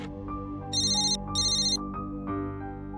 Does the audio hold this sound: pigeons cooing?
no